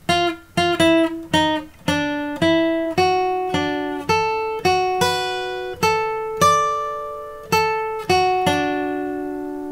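A plucked acoustic guitar melody, each note held and ringing out, decaying slowly before the next, steady unhurried pace, played alone with no voices.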